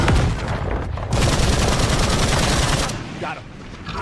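Heavy weapons fire in the video game State of Decay 3, a dense, continuous stream of loud, rapid automatic shots that keeps going for several seconds before easing into a quieter tail.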